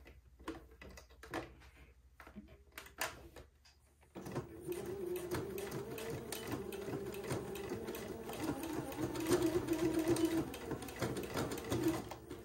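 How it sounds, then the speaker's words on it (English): A home sewing machine stitches back and forth to tack elastic inside a fabric casing, starting after a few quiet clicks and handling noises, then running as a steady close mechanical whir with rhythmic needle chatter. "using my sewing machine, I'm going to tack that into place"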